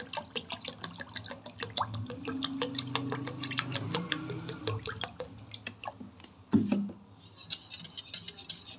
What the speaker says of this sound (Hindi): अब इसमें पानी ऐड कर देंगे